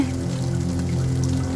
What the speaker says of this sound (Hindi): बाहर बारिश भी बहुत ज़्यादा हो रही है